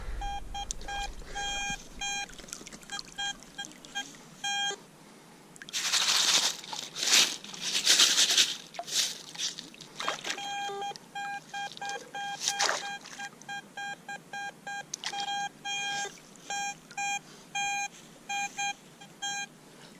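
A metal detector beeps in short, repeated tonal bursts on a signal while hunting for a gold wedding ring, with a loud stretch of crinkling and scraping from digging in the middle before the beeping resumes.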